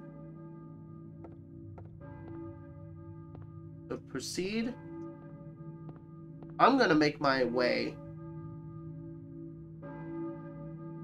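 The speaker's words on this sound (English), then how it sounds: "Who's ringing the bell?" A church bell in the Silent Hill video game tolls in a low, steady ring underneath someone talking, who speaks in two bursts before the bell continues on its own.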